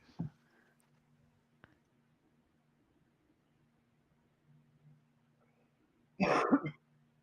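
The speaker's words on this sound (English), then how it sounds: "I think I just heard you cough" A single short cough near the end, following a quiet stretch with a faint click and low hum.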